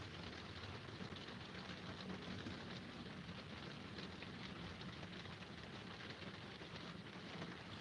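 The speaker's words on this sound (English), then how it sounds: "I wonder if you guys can hear the rain on the roof" Rain falling on the roof of an RV on an afternoon, a faint, soft and even patter heard from inside, steady and unbroken throughout with a low background rumble and no talking.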